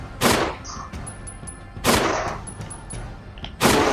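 Gunshots fired at zombies in the Resident Evil remake, three loud, sharp blasts spaced about two seconds apart, each ringing out over a low rumbling game ambience.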